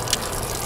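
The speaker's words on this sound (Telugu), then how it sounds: "నువ్వెంత కట్టినా ట్యాప్ ఆగదమ్మా, అది రిపేర్లో ఉంది." Water gushes steadily from a broken household tap that will not shut off, a close, continuous splashing stream with a brief brighter spurt near the start.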